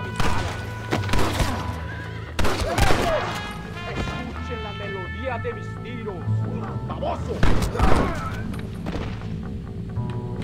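Horse neighing loudly in the Western video game Red Dead Redemption, with several whinnies and hoofbeats over gunfire and shouting voices in a chaotic fight scene.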